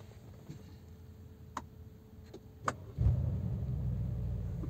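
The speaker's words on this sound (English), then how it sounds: "now let's start this car" A Brabus-modified Mercedes G-Wagon engine cranks and catches at about three seconds, settling into a steady low idle after a few quiet clicks and ticks.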